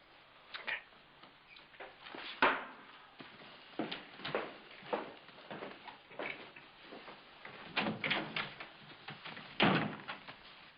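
A door opens and closes in an office amid a scattering of knocks, thumps and clicks of handling, spread through the scene at varying loudness, with no voices heard.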